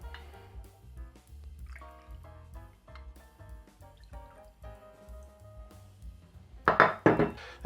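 Amaretto liqueur poured into a jigger for a cocktail, quiet liquid trickles and small glass and metal clinks close by, ending in a brief louder splash.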